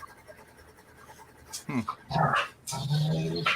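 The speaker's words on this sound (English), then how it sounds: "I hear a dog." A dog pants heavily and rhythmically up close, with a few snuffling breaths, following a quieter stretch of background noise.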